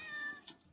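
A single short, faint meow from a cat drawn in by the smell of fish, heard close but quiet against a soft background.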